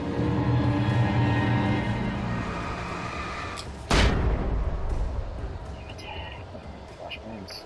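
Flashbang grenades going off in the video game Alan Wake Remastered, a loud rumbling blast followed by one sharp close bang midway, with low game noise continuing after.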